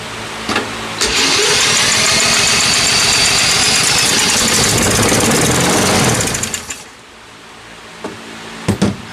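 Salvaged lawn mower two-stroke engine starts and runs with a loud, steady buzzing roar for several seconds, then cuts out, leaving a few faint knocks.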